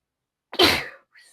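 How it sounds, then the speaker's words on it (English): A single sharp sneeze bursts out close by, followed by a short faint breathy sound. "Oh, now I have to sneeze."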